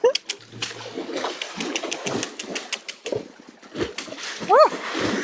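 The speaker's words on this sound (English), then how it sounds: "Reggie's having a splash" Horse splashing through water, with irregular sloshing and splatter bursts, fairly close, alongside outdoor noise and a brief bird-like chirp near the end.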